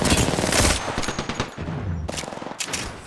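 Rapid automatic gunfire from an online squad shooter video game rattles in dense, loud bursts with overlapping shots and a short pause before another burst.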